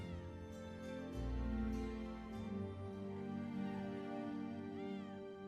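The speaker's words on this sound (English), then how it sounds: "I want to play with the cat." A cat in the video game Children of Morta meows a few times over a steady bed of game music and ambience, the meows fairly faint and mixed into the soundtrack.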